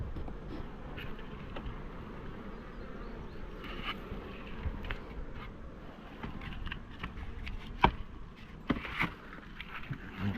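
A honeybee swarm left in a swarm box gives off a low, steady, fairly faint buzzing hum, with scattered light knocks and rustles on top of it.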